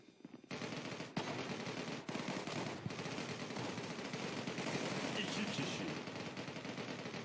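Automatic weapons fire in the mobile shooter Zula rattles in continuous rapid bursts, loud and close, with short pauses between volleys and a voice faintly underneath.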